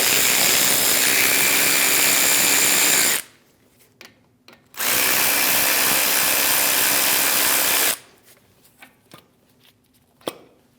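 Power tool spinning out brake caliper bolts on a Mitsubishi Outlander, two loud sustained whirring runs of about three seconds each, separated by quiet pauses with small clinks and handling noises.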